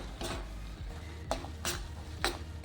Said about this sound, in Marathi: अजून आपण असं परतून घेणार आहोत